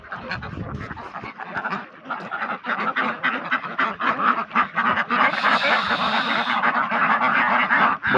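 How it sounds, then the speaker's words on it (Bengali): Large Pekin (Beijing) ducks on a farm, birds weighing about 7-8 kg, quack steadily and loudly at close range, a dense, overlapping flock chorus that continues throughout without speech. "বেজিং জাতের হাঁস, বড় বড় 7-8 কেজি প্রায় ওজন প্লাস"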